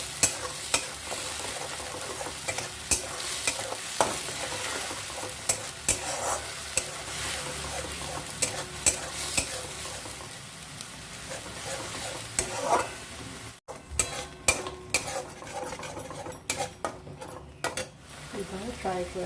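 A spiced masala with a spoonful of sugar is stir-fried in a pan for dhania paneer, with a constant sizzle and a rhythmic clatter of a spatula scraping and tapping the pan, close and busy throughout.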